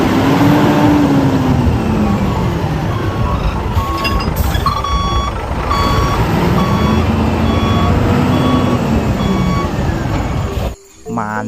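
A toy cement mixer truck plays a steady electronic tune with repeating beeps over a constant motor whir, loud and close, before cutting off abruptly near the end.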